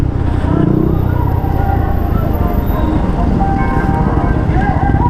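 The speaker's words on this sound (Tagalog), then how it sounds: "chill lang tayo dahil maingay yung tambutso natin." A motorcycle with a loud exhaust drones steadily and close while riding on the road, a rough low rumble with wind noise that holds for the whole stretch.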